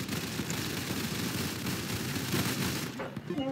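Dense, continuous tank gunfire and explosive blasts from a Roblox tower defence battle, loud and relentless, with a brief dip near the end.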